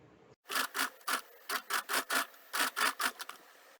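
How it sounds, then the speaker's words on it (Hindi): Sewing machine stitching a fabric pouch, a series of quick rhythmic bursts in close succession, loud and near, each burst separated by brief pauses. "अब सिलाई शुरू करेंगे"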